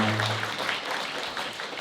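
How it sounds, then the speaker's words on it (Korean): Wedding guests at a hotel ceremony break into applause, a soft, fairly distant patter of clapping after a brief low tone fades at the start. "박수 부탁드리겠습니다"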